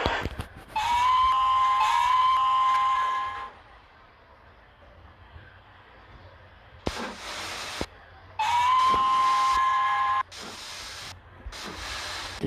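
A steam train whistle blows twice in long sustained tones, each lasting a few seconds with a quiet gap between, loud and fairly close.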